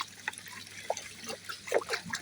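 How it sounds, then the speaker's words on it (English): Liquid pond treatment poured into garden pond water after stirring, a soft trickling and dribbling with small splashes, close and faint against quiet background hiss. "Give it a good stir, and then we pour this in."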